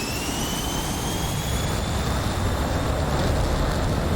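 F-16 jet engine spooling to full throttle on a runway in DCS, a loud, steady roar with a rising whine layered on top, heard alone.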